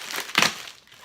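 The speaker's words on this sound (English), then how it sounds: "Got the scissors again. We're gonna do the unsafe way of cutting this." Scissors cut open a cardboard Amazon shipping box, giving a short crunchy, crinkling burst of cardboard and packing material up close, fading into quiet room tone, with no talking.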